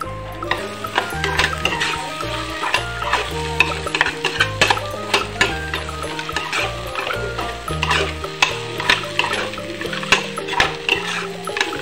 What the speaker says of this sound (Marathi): आणि आता हे मी चांगल्या प्रकारे परतून सुद्धा घेणार आहे